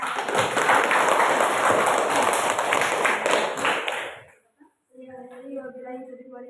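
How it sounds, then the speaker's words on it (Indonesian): A group claps loudly and steadily for about four seconds at the close of a classroom group presentation, then the clapping stops and a voice begins speaking. "Tepuk tangan untuk kelompok"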